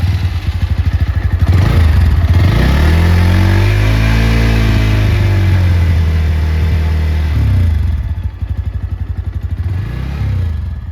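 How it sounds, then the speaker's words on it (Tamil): A 2023 Bajaj Pulsar NS160 motorcycle with an underbelly exhaust revs loudly and close by, its engine note rising and falling through several throttle blips over a steady rumbling idle. "இந்த வண்டியில இருந்து அண்டர்பில் எக்ஸாஸ்ட் கொடுத்துருக்காங்க. அந்த சவுண்ட் வந்து நீங்க வீடியோல கேட்பீங்க."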